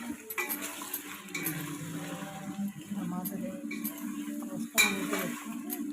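Spoon scraping and stirring tomatoes into dal in a metal pot, light clinks and wet swishing, close and fairly quiet, with a voice speaking over it.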